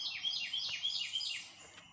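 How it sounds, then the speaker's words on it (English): Small birds near a lake chirp in quick, repeated falling whistles, a bright run of calls at moderate distance that trails off toward the end, with no other sound competing. "And here are the birds."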